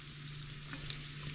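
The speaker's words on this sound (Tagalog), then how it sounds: "So, nagigisa akong gulay yan ng bacon tsaka bawang." Vegetables sautéing with bacon and garlic in a pan give a steady, soft sizzle and crackle with a faint low hum underneath, with no voices.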